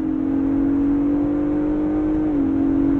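A Ford Bronco Raptor accelerates under a steady engine drone, with a quick paddle-shift gear change near the end that briefly drops the pitch.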